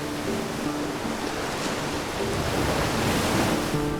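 Ocean waves on the Arabian Sea shore near a fishing town give a steady, loud roar of surf and wash, continuous broadband rushing with no distinct breaks and no voices.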